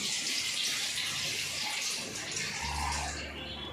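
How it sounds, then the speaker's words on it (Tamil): Water poured into an idli steamer pan to steam momos, a continuous bright splashing stream close by, steady throughout with a low rumble near the end as the vessel fills. "வாட்டர் ஊற்றிக்கலாம்"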